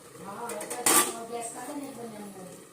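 A metal ladle clanks once against a cooking pot, followed by softer scraping, while people talk nearby.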